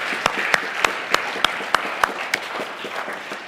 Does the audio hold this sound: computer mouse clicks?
no